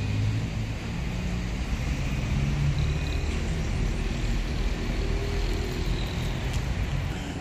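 A bus pulls away from the Ribeirão Preto bus terminal, bound for Presidente Prudente. A steady diesel rumble sits under a broad wash of terminal and traffic noise, moderately loud and continuous throughout.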